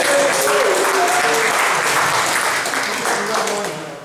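An audience at an evening talk on Britain's sexual revolution bursts into loud sustained applause and cheering, with voices audible through the dense clapping before it tapers off.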